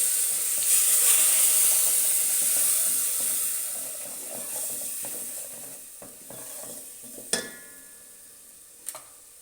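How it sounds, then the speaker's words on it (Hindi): Water is poured into a sizzling pan of dhaba-style lobia masala made with red beans, giving a loud hiss that fades as stirring continues, with a couple of sharp clinks near the end. "थोड़ा सा हम इसमें पानी डाल देंगे।"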